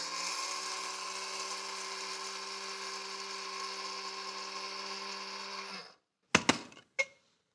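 A small electric grinder milling flax seeds runs with a steady high whine for several seconds, then cuts out, followed by a couple of short clatters up close.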